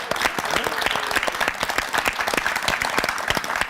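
A lecture audience claps together in a dense, lively burst of applause that stays loud and busy for a few seconds.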